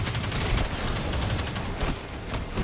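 Enemies shooting in the Destiny video game, a dense continuous barrage of rapid gunfire with several overlapping bursts, steady and fairly close, with no talking.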